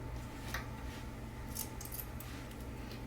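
Scissors snip through the fabric seams of a sewn hobo bag near the zipper top, giving a few faint, sharp clips over a low steady hum, with no talking.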